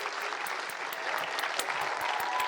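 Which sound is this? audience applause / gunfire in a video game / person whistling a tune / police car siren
audience applause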